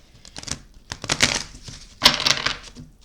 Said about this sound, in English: That was a shitty shuffle.